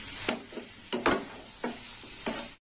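A spoon stirs coconut naru mixture in a pan with a few distinct scraping strokes over a soft low sizzle, moderately close and fairly quiet, with no talking.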